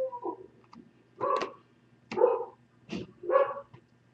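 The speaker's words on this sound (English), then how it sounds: "The dogs are going crazy." Dogs bark in short separate bursts, about four or five sharp barks spaced roughly a second apart, close and clear against a quiet background.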